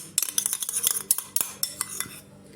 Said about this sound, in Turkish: Şuradan bir kaşık süt alıyorum. Yoğurduma karıştırıyorum ve onu güzelce karıştırıyorum.